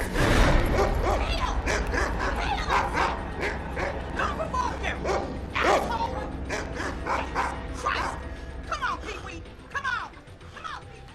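Dog barks, yips and whimpers from a Saw film scene, repeated short bursts mixed with voices and film sound throughout, moderately loud.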